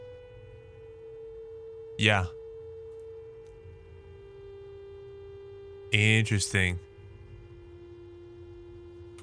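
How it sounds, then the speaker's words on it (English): Steady electronic radio tones from the video game Signalis: a sustained hum-like pitch with stacked harmonics drones throughout at moderate level, while brief speech breaks in twice over it. "we are getting signals. Just no data. Oh, interesting. It's just like music playing over the radio."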